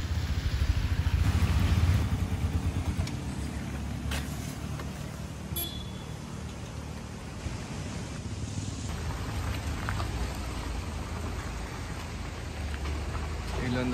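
Rain falls steadily at a tea estate in the hills, a constant soft patter close by, with faint passing traffic underneath.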